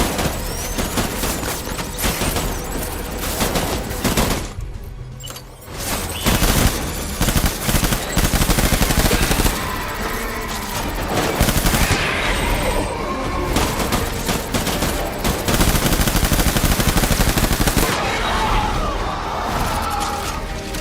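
Relentless automatic gunfire in the video game Death Stranding, continuous loud bursts and shattering impacts over about twenty seconds with only one brief lull.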